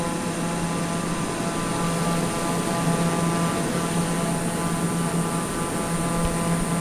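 Aeroplane engine in the Microsoft Flight Simulator video game, a loud, steady droning hum with a constant tone and broad roar that never changes in level across the whole stretch, with no voices.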